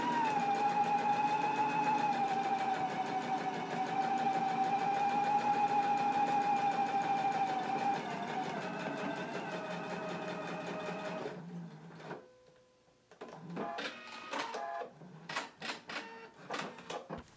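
Across a notched shirt collar edge, a sewing machine bastes in a fast, steady mechanical whir for several seconds, then slows and breaks into short, separate bursts of stitching with clicks between them.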